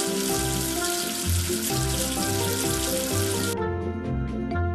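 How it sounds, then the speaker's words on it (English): Water splashes and trickles steadily as soap is rinsed off in a kids' cartoon, a bright bubbly wash sound layered over a cheerful looping music bed that drops away near the end. "Wash away the soap with water."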